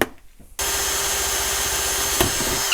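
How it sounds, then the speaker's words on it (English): Power drill boring holes in a plastic power box enclosure for a DIY lithium portable charging station, a steady close whine after a brief quiet start, continuing alone without talk. "Okay, so now I'll drill those last 2."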